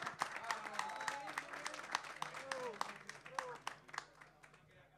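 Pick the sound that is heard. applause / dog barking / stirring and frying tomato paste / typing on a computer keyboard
applause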